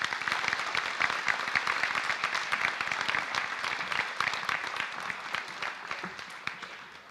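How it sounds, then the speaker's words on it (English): Steady applause from the audience at a high school scholarship ceremony, many hands clapping at a moderate distance in a dense patter that holds for several seconds before easing off slightly at the end. "A round of applause for these people."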